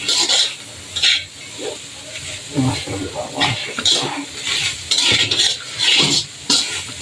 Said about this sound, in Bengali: তো আমরা নাড়ানাড়ি করতেছি